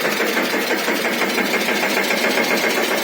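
A tractor engine runs steadily and close by, a continuous mid-pitched mechanical drone with no pauses, heard on its own without voices.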